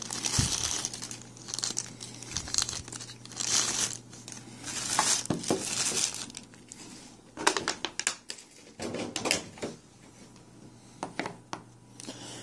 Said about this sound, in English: So let's go ahead and get the plastic off of her.